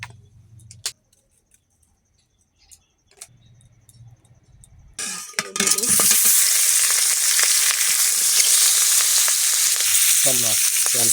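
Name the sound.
oil sizzling in a wok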